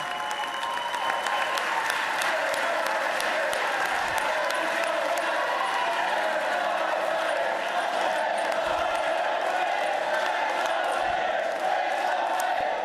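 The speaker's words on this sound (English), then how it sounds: "I just noted that 25 senators stood up to clap for that" Senators applauding in a legislative chamber, a dense, sustained roar of clapping hands filling the room at steady loudness for the whole stretch, with a murmur of voices mixed underneath.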